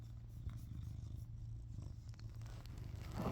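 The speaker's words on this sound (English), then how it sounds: "He is purring" A pet cat purrs up close in a continuous low rumbling drone, soft and steady, with a faint breathy rhythm and no talking.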